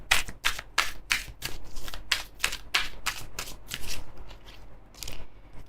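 Tarot cards are shuffled by hand in a quick run of crisp, close riffling bursts, about a dozen sharp flicks in rapid rhythm before a brief pause and a final shuffle, with no talk over them.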